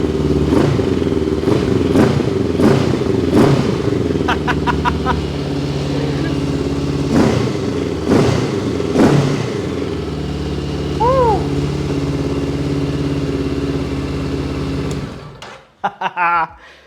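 A Honda NX500 motorcycle with a stage 1 tune idles and is blipped several times, giving sharp close revs over a throbbing idle. The engine then cuts off, and a few clicks and faint bits of talk follow.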